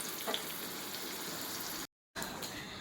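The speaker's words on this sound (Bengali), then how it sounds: "আর এখানে এই যে আলু সেদ্ধর জন্য একটু পেঁয়াজটা ভেজে নিচ্ছি।" Onion fries in a pan with a soft, steady sizzling hiss, heard faint and close, broken by a brief silent gap near the end.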